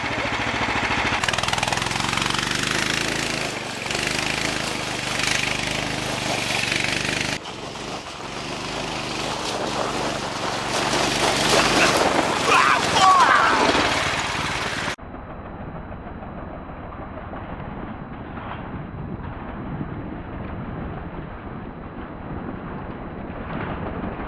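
Car rolling along a rough gravel road, with a steady rumble of tires on loose stones and suspension noise, loud and continuous, its tone shifting partway through, with no talking.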